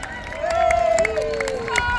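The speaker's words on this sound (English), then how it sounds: "Now keep going, you've got a lot more cheering to go yet," Outdoor crowd at the Arundel Castle history festival cheering on Iron Age Britons reenactors: a loud, sustained mass of shouting voices with whoops and whistle-like calls, fairly close and continuous throughout.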